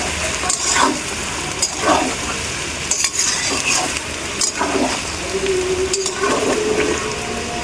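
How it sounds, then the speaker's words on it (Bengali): A spoon stirs spices with chili powder and turmeric powder in a pan of hot oil for a tilapia, tomato and potato curry; rhythmic scraping strokes recur every second or so over a continuous close sizzle, with no talk. "আর এটাকে আমি নাড়তে থাকবো।"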